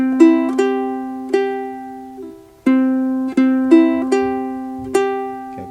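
A ukulele picks the 'Ulili E melody in a slow lesson passage, one plucked note after another with a steady attack and decay, close and clear with no talking.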